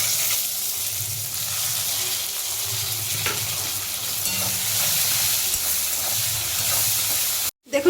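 Chopped onion goes into hot oil already frying with bay leaf, dried red chilli and whole garam masala for a chicken curry, giving a steady, close, continuous sizzle with light stirring scrapes and no talking.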